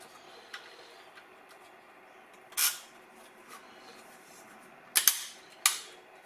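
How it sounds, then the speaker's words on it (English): Small plastic lugs on a 1/16 scale RC Leopard 2A6 tank model snap together in a few sharp, close clicks: one snap, a pause, then a quick double and a single, over faint background hiss. "it's just got like these little lugs that you've got to push together"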